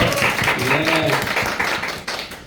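A church congregation at a youth and young adults' Sunday service claps to welcome a young man back from military service. It is a short burst of applause, with a voice speaking over it.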